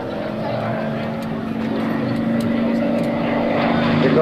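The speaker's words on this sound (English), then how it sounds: "powered by two Pratt & Whitney J34 jet engines with afterburner" A 1957 Chevy pickup fitted with two Pratt & Whitney J34 afterburning jet engines roars loudly at an Air National Guard open house race. The roar is a steady, powerful rush with a sustained whining tone that builds slightly.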